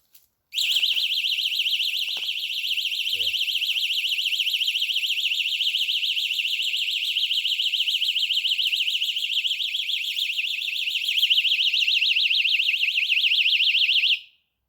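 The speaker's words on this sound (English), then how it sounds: "the attack alarm is just a sort of simple thing, sits in your pocket" Piercing, high-pitched warbling personal attack alarm shrieks continuously for about fourteen seconds, loud and close, then stops abruptly.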